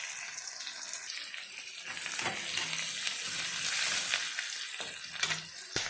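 Chopped onion and panch phoron fry in hot oil for a fish curry, giving a continuous, close, bright sizzle with occasional stirring scrapes and a few brief dips near the end.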